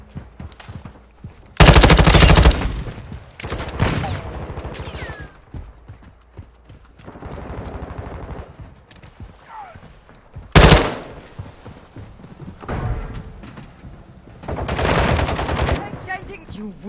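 Gunfire in Call of Duty: Modern Warfare II sounds as a few sharp, loud bursts spaced across the stretch, amid quieter scuffling and clattering battlefield noise and faint voices.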